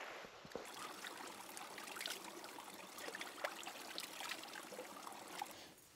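Water runs steadily down a nearby stream, a continuous soft rushing and trickling with no voices.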